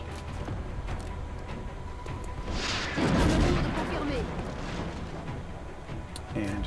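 A rocket fired in the turn-based game XCOM Enemy Within, heard as a single loud blast and rumble around the middle, with a fiery hiss before it and a low roar that fades over background game ambience.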